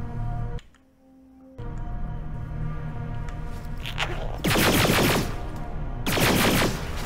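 Gunfire in the video game Terminator: Resistance, with a brief lull and then two loud bursts of rapid automatic fire, each lasting about a second, over a steady background hum.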